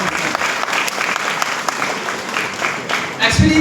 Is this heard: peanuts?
no